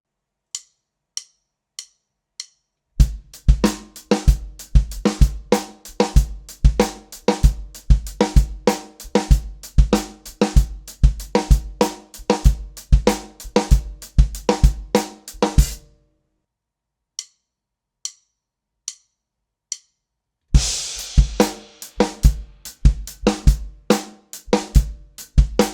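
A drum kit plays a 5/4 rock groove with steady eighth notes on the hi-hats, snare hits and kick drum. A few clicks count it in, it breaks for a short gap, then it restarts on a crash cymbal. Close, loud, no voices.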